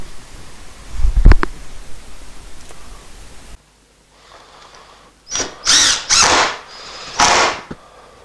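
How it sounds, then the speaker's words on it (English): A Hitachi impact driver drives screws into a wooden frame for a castor machinery platform: a short burst first, then after a pause several loud, close, rattling impact bursts with gaps between them. "I'm using my trusty Hitachi impact driver to get those screws in nice"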